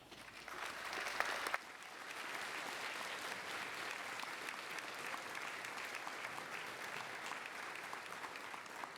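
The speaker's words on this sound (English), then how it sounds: "warm round of applause." An audience at a university graduation ceremony gives sustained, even applause: dense, steady clapping from a large crowd filling the hall for about nine seconds, heard at a moderate distance with no speech over it.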